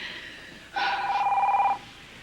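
A telephone rings in a single one-second burst of bright electronic trilling, loud and close, with quiet room tone before and after and no talking during the ring.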